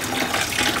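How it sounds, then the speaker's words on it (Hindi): Water rushes steadily from the outlet of a Surya gas geyser, a continuous broadband hiss and splash with no break. "हम जब अपने पानी को ऑन स्टार्ट करते हैं इनपुट से, तब इसमें से ये पानी आता है"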